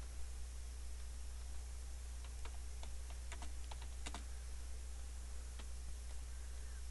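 Someone types a date on a computer keyboard in Microsoft Word 2010: scattered, fairly faint key clicks in short irregular bursts over a steady background hiss, with no talking.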